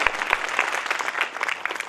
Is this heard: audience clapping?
yes